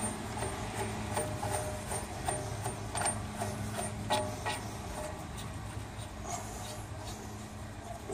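Adjusting screw being turned on a portable hydraulic press during a Toyota Camry front wheel hub and bearing job, giving faint, steady ratcheting mechanical clicks in a quiet garage.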